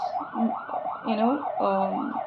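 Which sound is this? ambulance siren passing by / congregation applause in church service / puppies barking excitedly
ambulance siren passing by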